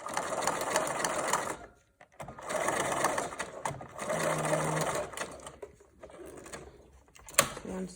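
A sewing machine runs in several quick bursts of straight stitching through a fabric mask, its rapid mechanical whir close and loud, stopping briefly between runs.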